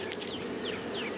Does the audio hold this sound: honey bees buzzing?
yes